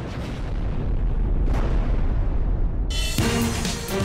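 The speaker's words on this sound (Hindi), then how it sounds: "धमाका होता है और धमाके के साथ एक मशरूम क्लाउड उठता है" A large explosion in Beirut, Lebanon, captured from a motorboat, comes through as a heavy, continuous rumbling roar that swells and then shifts into harsher, brighter noise, loud and without any speech.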